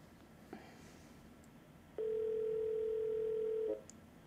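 A phone call to a fan on a live show rings out: a single steady ringing tone sounds for under two seconds after quiet line hiss, then cuts off.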